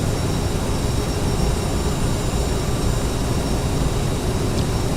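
Steady broadband roar of CRJ-900 jet engines cruising in flight in the Flight Simulator X game, a constant, even cabin drone with no breaks and no voices.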